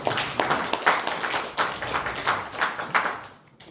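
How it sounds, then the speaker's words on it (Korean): Steady applause from a crowd, a dense patter of many hands clapping that tapers off toward the end. "예, 박수 부탁드리겠습니다."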